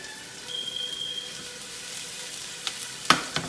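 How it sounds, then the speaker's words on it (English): Onions frying in a pan on a home stove, a steady soft sizzle running throughout at low level, with a faint tone near the start and a few sharp clicks near the end. "So I'm just doing some onions."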